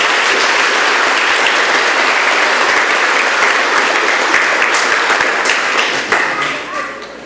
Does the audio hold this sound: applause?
yes